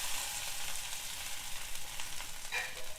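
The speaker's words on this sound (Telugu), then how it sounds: "ఇట్లా కరివేపాకు వేసుకోవాలి." Curry leaves sizzle in hot oil for spicy idli, a steady close frying hiss with brief crackling pops and no talk.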